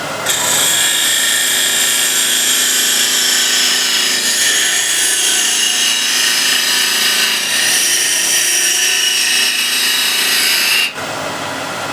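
A wood lathe spins as a French curve standard scraper works across end grain, producing a steady, loud, continuous high-pitched scraping whir that holds for about eleven seconds before cutting off abruptly.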